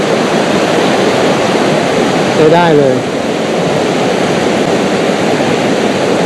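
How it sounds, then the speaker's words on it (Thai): A loud, constant roar of falling water fills the scene, with a brief voice speaking over it partway through. "ที่พญาเย็นแคมป์ก็ อาจจะต้องจบลง ที่น้ำตกสายน้ำแห่งนี้นะครับ"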